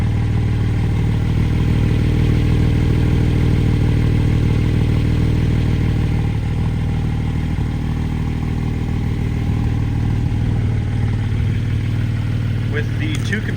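A 2023 Porsche 718 Boxster Spyder runs with its exhaust valves open, giving a loud, deep, steady rumble with some clatter, close by and continuous throughout.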